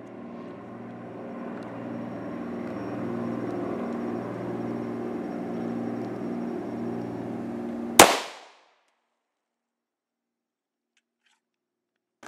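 A steady mechanical hum runs for several seconds before a single sharp, loud shot from an FN 5.7 pistol firing an SS-190 round into a Warrior ballistic helmet, followed by near silence.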